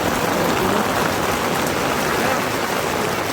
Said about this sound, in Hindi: यहाँ बारिश आ गई थी